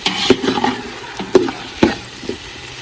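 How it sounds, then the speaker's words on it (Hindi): Onion, garlic and ginger being stirred and fried in a pan for matar pulao, with soft intermittent sizzling and several distinct scraping stirs, close by and moderately quiet, no talking. "यहाँ पे अच्छी तरह से प्याज लहसुन और अदरक सब लग के बुनाई करेंगे।"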